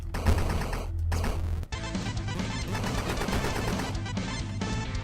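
The Jackhammer weapon firing in the video game Cavern Kings, a fast, continuous stream of rapid impacts, loud and dense, with only brief breaks in the barrage.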